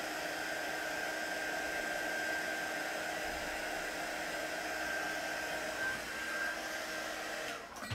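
Heat embossing tool blowing hot air steadily to melt embossing powder on a card, a constant loud whooshing fan hiss lasting throughout, cutting off at the very end.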